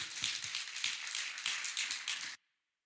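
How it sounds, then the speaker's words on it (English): An audience applauds panelists at a gender-based violence panel discussion, steady close clapping from a crowd for about two seconds before stopping abruptly into silence. "let's have a round of applause for our panelists"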